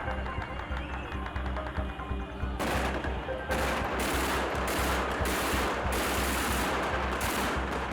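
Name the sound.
gunfire shooting at a poster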